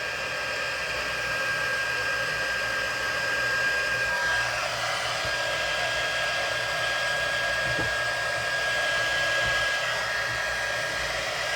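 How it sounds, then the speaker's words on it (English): Heat gun switched to its high setting for embossing a handmade card, giving a loud, steady blowing whoosh with a faint high whine that runs without a break from start to finish. "got the heating tool all ready to go. I'm going to turn it on high. And we'll start the embossing process."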